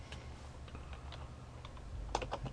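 Computer keyboard typing while entering router configuration commands, scattered keystrokes with a quicker burst near the end, close but quiet under a low hum.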